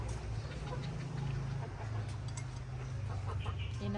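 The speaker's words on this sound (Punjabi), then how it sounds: "ਮੁਰਗੀਆਂ ਥੋੜੀ ਦੇਰ ਖੋਲਣਾ" Chickens cluck and call continuously after being let out of their coop in a village yard, a steady low hum running beneath the birds.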